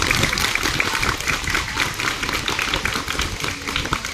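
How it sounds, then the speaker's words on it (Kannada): Schoolchildren and teachers at a school fire-safety awareness event clap loudly together, a dense, steady wash of applause that holds at full strength from start to finish. "ಜೋರಾಗಿ ಚಪ್ಪಾಳೆ ಹೊಡೆದ್ರೆ"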